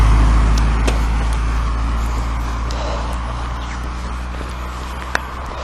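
Cars and other road vehicles rumble along a busy country lane, a steady low engine and tyre drone holding throughout with a faint sharp click near the end.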